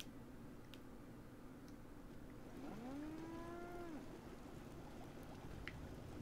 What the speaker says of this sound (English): I heard a cow.